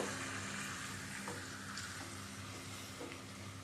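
Chicken frying in a pan with spice masala gives a steady, faint, even sizzle throughout, broken by a few soft stirring clicks, with no voices.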